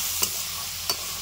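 Ground cumin, coriander, dried chili, turmeric and salt fry in oil over medium heat, a close steady sizzle broken by two quick spatula scrapes.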